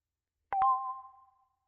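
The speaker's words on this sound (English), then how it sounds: "oh, the doorbell. I wonder who that is." A doorbell sounds with two quick strikes followed by a clear electronic tone that rings on and fades out, heard alone against silence.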